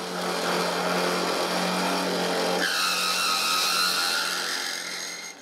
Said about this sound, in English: I press the other end with my hand and I drill.